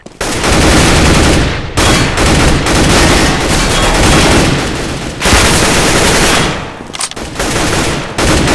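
Dense, loud bursts of automatic gunfire and blasts in Counter-Strike: Global Offensive on the map Train, sustained volleys with brief gaps between them and a grenade going off amid the shooting.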